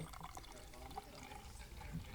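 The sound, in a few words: beer being poured, 2016 Almanac Grand Cru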